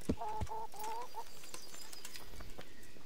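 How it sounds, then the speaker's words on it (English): Chickens in the medieval village of the video game Kingdom Come: Deliverance give a short burst of several clucks in the first second, fairly close, followed by quieter ambience. "Move, chickens."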